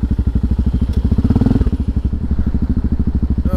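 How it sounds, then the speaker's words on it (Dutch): A motor scooter, around 180 to 250cc, rides past close by on a street in Rotterdam, its rapid putter loud and rhythmic, building and then easing off over a few seconds with no talk. "op je motorscooter, wat zal die zijn, 180cc, 250cc"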